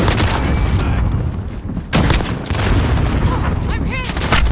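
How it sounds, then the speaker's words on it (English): A grenade goes off in a first-person shooter game with a loud booming blast, surrounded by gunfire and battlefield noise, and players can be heard speaking briefly. "Grenade."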